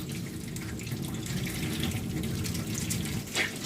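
Hot tap water pours steadily into a sink while raw chicken is washed with lemon, a continuous close splashing hiss with small surges.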